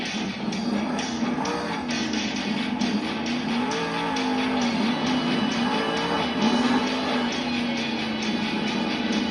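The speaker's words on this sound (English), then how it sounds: "Ashley Sanford's going to save it here and get it into a nice little wheelie" Megalodon monster truck popping a wheelie in a Monster Jam stadium arena in Salt Lake City, its engine droning and revving loudly and continuously amid a roaring crowd ambience.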